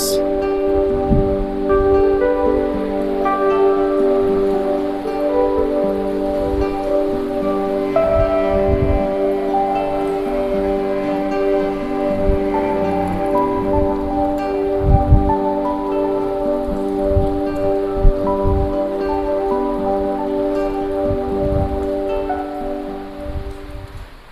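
Heavy rain pours steadily on a Konkan village, a dense unbroken hiss that holds at the same loudness throughout, with a faint tonal hum underneath.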